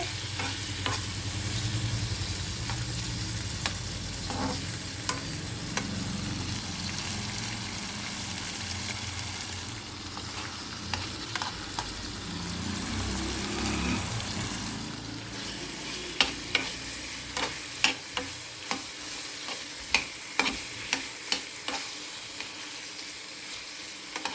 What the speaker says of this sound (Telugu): జీలకర్ర లాస్ట్కి వేసినా ఏం కాదు మిర్చి మంచిగా ఫ్రై కావాలి